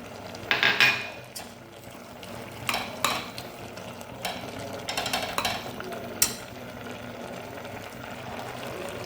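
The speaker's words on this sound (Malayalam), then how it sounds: "ഇനി ഒന്ന് ഇളക്കി കൊടുക്കാം" A spoon stirring ash gourd curry in a pot on the stove, with scattered scrapes and clinks against the metal that come in irregular bursts up close, then a louder clatter near the end.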